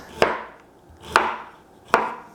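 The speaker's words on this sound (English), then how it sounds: "we're going to cut it into a slice very thinly" A knife slicing ginger thinly on a wooden cutting board: three sharp, close chops at even intervals about a second apart, each with a short dull knock, no talking.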